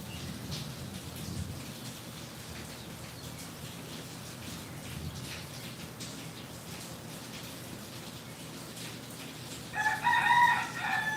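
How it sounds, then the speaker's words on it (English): A chicken crows once near the end, a loud drawn-out call rising over a steady rain-like hiss that fills the rest of the stretch. "Y'all hear the chicken?"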